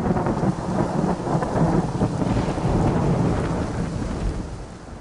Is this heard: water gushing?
no